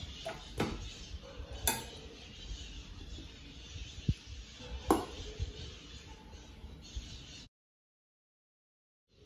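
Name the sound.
mixing dough ingredients and flour in a bowl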